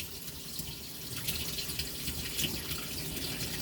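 A well pump draws water while holding steady pressure under load, producing a continuous, even rush of running water with faint drips, close by and alone with no talk.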